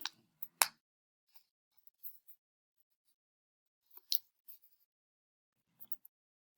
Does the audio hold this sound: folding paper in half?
yes